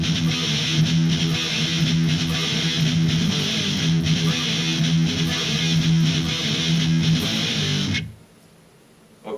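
Distorted heavy metal electric guitar chugs a driving gallop riff, loud and sustained for about eight seconds before cutting off abruptly into near silence.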